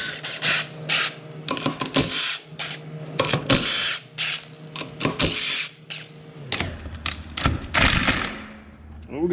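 Tools loosen and pop off the wheel of a red Mazda RX7 FD in a garage, with repeated bursts of mechanical rattling, clanks and thuds, close and fairly loud, with a voice heard briefly.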